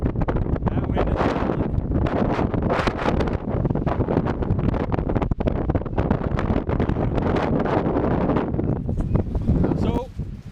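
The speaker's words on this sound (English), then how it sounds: "Oh, wind is amazing today." Strong gusting wind buffets the microphone at a hilltop lookout over a bay, a loud continuous roar with rustling bursts throughout, while people talk faintly underneath.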